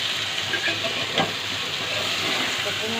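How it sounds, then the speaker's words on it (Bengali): Onion fries in a pan, a steady close sizzle and crackle that continues unbroken with no voices. "প্রথমে আমি পেঁয়াজটাকে ভাজা করছি"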